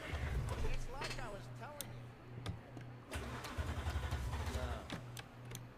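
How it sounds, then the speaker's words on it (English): A car engine in the video game Cyberpunk 2077 cranks with sputtering bursts, stalls, then turns over and rumbles unevenly, while people talk loudly over it. "Start the engine"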